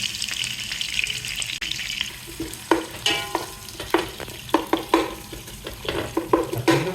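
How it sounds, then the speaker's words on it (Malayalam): Onions sautéing in a pan: a steady sizzle with repeated sharp scraping and stirring knocks from about the third second on, close and fairly loud, with no one talking. "ഉള്ളി ഇട്ട് കൊടുക്കുക. ഉള്ളി കുറച്ചൊന്ന് വഴറ്റിട്ട് നമുക്ക് അടുത്ത പണി നോക്കാം."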